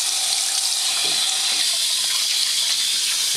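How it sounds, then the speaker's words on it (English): Water from a tap runs and splashes steadily at close range, a broad continuous hiss with no talk, while someone wets their face before shaving. "Let me splash some water on it."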